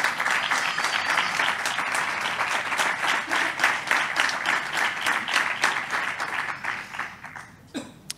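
A crowd applauds at a civil protection recognition ceremony, with steady, rhythmic clapping carrying for about seven seconds before tapering off near the end. A faint chuckle rises from the audience.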